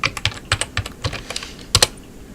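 Quick bursts of typing on a computer keyboard come close and crisp, with a dozen or so uneven key clicks and a double tap near the end, and no talk.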